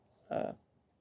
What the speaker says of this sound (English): just making normal cow sounds